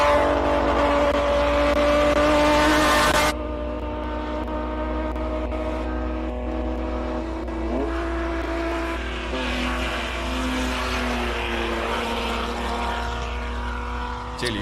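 Classic race cars at the Simola Hillclimb roar past, a loud engine drone with shifting pitch as one car passes and fades, followed by lingering engine noise from the course.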